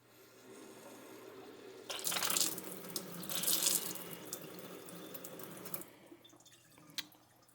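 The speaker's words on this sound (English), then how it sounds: "we're going to run a little bit of water through the hose just to flush out any debris" Water runs from a Moen kitchen faucet through a pulldown sprayer hose with the wand off, a steady hissing gush that swells and eases, followed by a few drips, close by with no talk.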